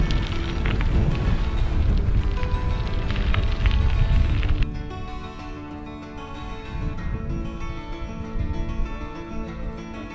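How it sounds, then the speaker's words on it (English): Strong wind gusting across the exposed top of the Ridgeway on a bike-packing ride, loud rumbling buffeting on the microphone that eases after a few seconds but keeps blowing. "it's still ridiculously windy, especially up here on top of the Ridgeway"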